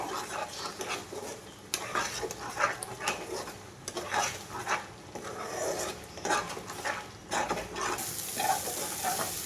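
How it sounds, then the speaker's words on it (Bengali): Ground spices with black pepper and turmeric frying and being stirred in a pan for a katla fish curry, a steady sizzle broken by repeated scraping strokes, close and continuous throughout. "গোলমরিচ গুঁড়ো, হলুদ গুঁড়ো, সব মশলাই খুব ভালোভাবে কষিয়ে নেব"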